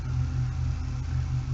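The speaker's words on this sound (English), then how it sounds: "try to ignore the wind and the motorcycle sounds you hear in the background." A motorcycle engine rumbling steadily in the background outdoors, a low continuous drone with wind noise and no speech.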